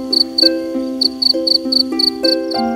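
Noisy crickets chirp in short, rhythmic high-pitched bursts, repeating steadily and close by over a sustained tonal musical backdrop.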